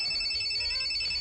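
A telephone rings in a radio drama, a steady electronic ringing tone sounding continuously and fairly clearly throughout.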